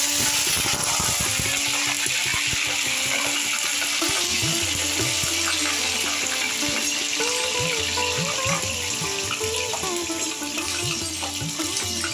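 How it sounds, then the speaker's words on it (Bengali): Cauliflower florets fry in hot oil in a pan, a continuous crackling sizzle under clinking utensil sounds and scattered metallic scraping. "তেল আমার গরম হয়ে গেছে। প্রথমে আমি ফুলকপিগুলো ভেজে নেব।"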